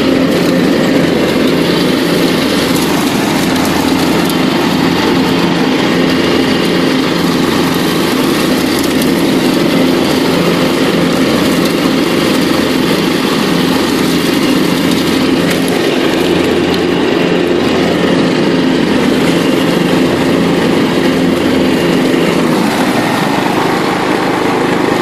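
A John Deere LT133 lawn tractor engine runs steadily and smoothly for the whole stretch, a constant loud drone with no missed beats and no voices.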